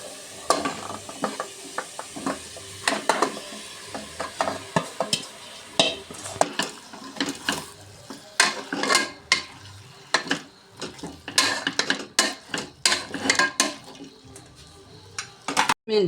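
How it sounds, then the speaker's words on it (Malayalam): Chicken being stirred in a pressure cooker while making biryani, with repeated scraping and clinking strokes of a spoon against the metal pot over a faint sizzle, close and steady with brief pauses. "നല്ല പാങ്ങിൽ വെന്ത് വരുന്നവരെ ഒന്ന് ഇളക്കി കൊടുക്കണം"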